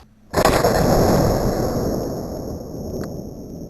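A single sharp burst from a German arrow air gun, fired close by, with a sudden loud onset and a broad rushing tail that fades slowly over a few seconds; no talking.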